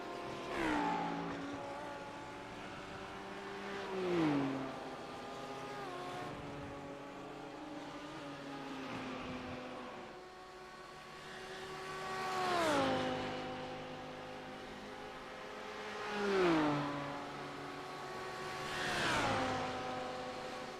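A BMW race car in a simulated Le Mans endurance racing game screams through the gears, its engine note climbing and then dropping sharply at each upshift and braking point, loud and continuous over about twenty seconds.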